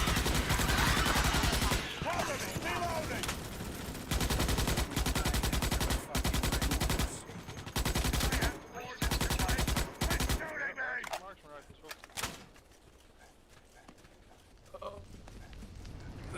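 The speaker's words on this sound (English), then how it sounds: "Shooting." Gunfire in the video game Marathon: dense, loud bursts of rapid automatic shots with brief gaps, then quieter scattered fire with game sounds, under occasional talk.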